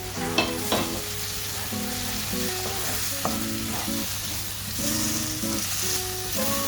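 Masala paste and capsicum stirred in a frying pan for a chicken roast, a continuous sizzle broken by repeated clinks and scrapes of a spoon against the pan.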